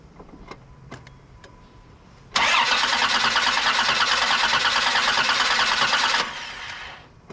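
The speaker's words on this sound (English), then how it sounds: "Let's go ahead and fire it up and see if we get any fuel pressure." 1993 Dodge Dynasty with a 3.3L V6 cranking without starting, a loud, steady, close whirring drone lasting about four seconds after a few faint clicks, then dropping away.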